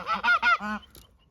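A quick run of four loud, nasal goose honks close by, rhythmic and evenly spaced, then fading to quiet.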